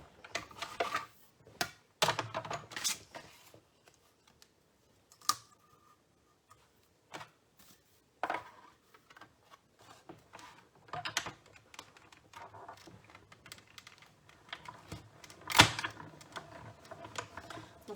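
A manual die-cutting machine presses a butterfly-shaped paper die for scrapbook cardmaking, giving irregular close clicks, clacks and ratcheting knocks with short pauses and no talking.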